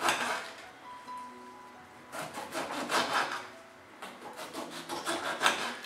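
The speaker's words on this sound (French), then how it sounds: "Vous découpez le citron." A knife saws through a lemon on a wooden board in a series of close, rhythmic rasping strokes, with brief pauses between bursts of cutting.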